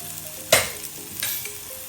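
Onions, grated coconut and turmeric fry for a Mangalore-style chicken curry, a quiet sizzle with two sharp scrapes of a spoon stirring the pan over a short stretch.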